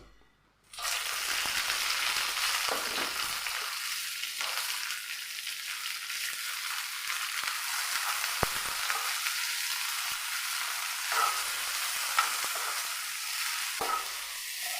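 Tomato, onion, green chili, garlic and ginger sizzle and fry steadily in hot coconut oil in a pan, with a continuous close crackle, occasional stirring scrapes and no talking.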